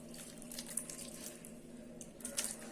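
Rice flakes (aval) being washed in a bowl of water for vegetable upma, giving a steady, close sloshing and trickling with a few brief louder splashes and no talking.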